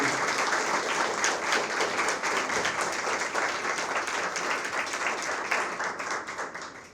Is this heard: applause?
yes